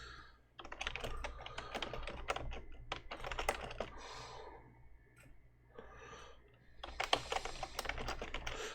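Rapid keystrokes patter on a computer keyboard in close, quiet surroundings, coming in irregular bursts with brief pauses as a prompt is typed out.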